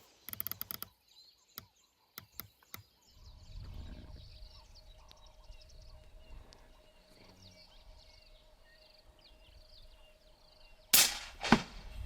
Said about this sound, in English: Come, Matt, there's another one if you want to shoot